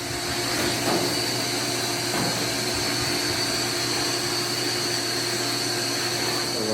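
Steady, loud whine of a vacuum cleaning out a clothes dryer and its lint during dryer vent cleaning, a constant motor drone with brief bumps and scrapes of the hose against the machine throughout.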